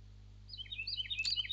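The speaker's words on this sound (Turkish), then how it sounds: "Oğlum çok fazla kuş var burada." Several small birds chirp and tweet in a forest in the survival game The Forest, bright high calls growing busier and louder over a steady low hum, with no talking.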